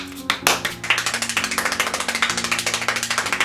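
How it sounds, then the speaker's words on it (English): Rapid, steady hand clapping at a funeral, a fast run of sharp claps close by with music-like tones underneath. "And out of nowhere, Kent just starts"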